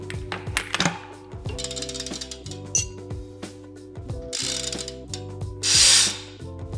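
A ratchet wrench clicks in quick bursts while tightening the back wheel of a BMX bike, close up, with metallic ticks, pauses and a short hiss-like scrape, and no voices.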